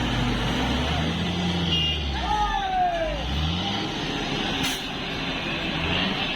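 A big lorry engine labours at low revs, a heavy continuous drone, while it tows a small lorry stuck in mud. A voice calls out over the noise and vehicle sounds in the background.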